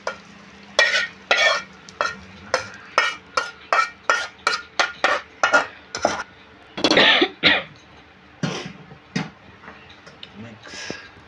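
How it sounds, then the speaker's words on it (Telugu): Egg rice frying in a pan is stirred with a spoon in a quick series of scraping, clacking strokes over a soft background sizzle, with an occasional cough nearby. "మిక్స్ పట్టుకొని మొత్తం మిక్స్ అయ్యే విధంగా తిప్పుకోవాలి."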